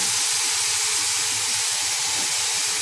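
Soya, mint and coriander sautéing in a hot pan for vegetable biryani, giving a loud continuous hiss and sizzle with no talking.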